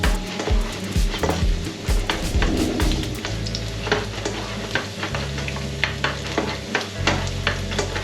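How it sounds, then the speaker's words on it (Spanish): Garlic sizzles in hot oil in a pan while being stirred, with frequent scraping and clinks of a utensil against the pan over a steady frying hiss. "le añadimos los ajitos, sofreímos los ajitos."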